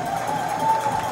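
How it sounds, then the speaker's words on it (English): A curling arena crowd reacts to a scoring shot with a steady, fairly distant murmur and cheer that holds at an even level throughout. "And folks, you can hear from the crowd"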